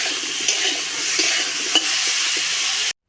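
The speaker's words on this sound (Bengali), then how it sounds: "দিয়ে আবারও ভালো করে ভাজতে হবে।" Potatoes and pointed gourd frying in oil with salt and turmeric, a loud continuous close sizzle with a few stirring knocks, cutting off abruptly at the end.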